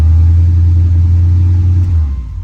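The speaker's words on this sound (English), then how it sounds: "engine starts right up, no issue there" A 1980 Corvette engine starts and runs loud and steady with a deep low rumble, easing slightly toward the end.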